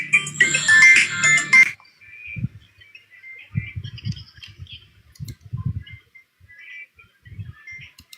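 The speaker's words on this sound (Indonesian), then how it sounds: "Matikan dulu teleponnya itu" A mobile phone ringtone chirps loudly for under two seconds and then stops, followed by soft scattered clicks and bumps in a quiet room.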